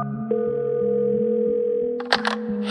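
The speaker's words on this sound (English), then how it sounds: "Julia picked up her phone and decided to call the worker known as Victoria" Telephone line on an outgoing call, holding a steady electronic tone that runs close and clear before breaking into a few quick clicks and tone changes near the end.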